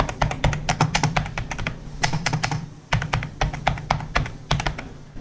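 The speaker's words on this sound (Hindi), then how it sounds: "इसको आप टाइप करते हैं तो क्लिकीनेस है इसमें" Keys on an HP K500F gaming keyboard clatter in quick irregular bursts with short pauses, each press a sharp clicky tap heard up close with nothing else over it.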